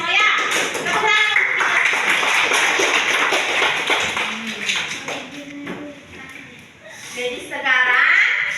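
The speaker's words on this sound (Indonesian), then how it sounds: "Tepuk tangan." Children in a classroom clap together in quick bursts, with rhythmic patterned clapping alongside chatter and young voices. A lull of talk follows before another short burst of clapping.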